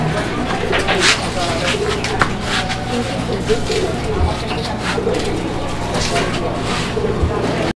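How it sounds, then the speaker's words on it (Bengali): A single large black Shekhar pigeon at a pigeon farm, with repeated soft low coos near the microphone amid other birds' calls and continuous background chatter from people nearby. "সিঙ্গেল একটা শেখর কবুতর রয়েছে, ব্ল্যাক কালারের শেখর"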